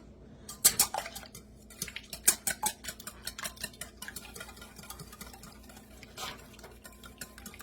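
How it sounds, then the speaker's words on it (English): A small whisk clinks and scrapes around a bowl of apple fritter batter, with quick irregular metallic taps and stirring close by and no talking. "Grab my little whisk here."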